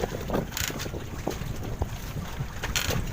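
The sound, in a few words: strong wind at sea by a boat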